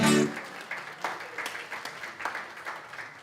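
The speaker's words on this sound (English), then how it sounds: "Give yourselves a round of applause" Church congregation gives scattered, fairly faint applause, with individual claps audible in a loose rhythm after a brief louder sound at the start.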